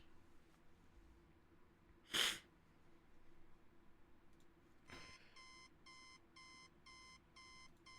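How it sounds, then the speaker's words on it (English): An alarm clock rings at 6 a.m. in the video game Don't Bite Me, a repeating electronic beep pattern starting a few seconds in after a brief sharp burst, sounding moderately loud in a quiet small room. "Sound of my alarm fills the small room as I reluctantly sit up in bed"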